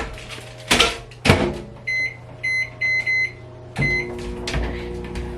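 A microwave oven heating food: a door clunks shut, a run of short electronic beeps as buttons are pressed, then the low steady hum of the oven starting up, heard close with no talking.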